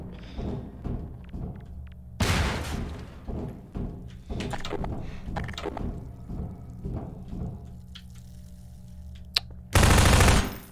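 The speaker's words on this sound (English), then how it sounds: "I'll just launch a grenade in there" A grenade is launched and explodes in the video game Half-Life 2, set amid a stretch of gunfire with heavy booming bursts, and one final loud blast closes the sequence.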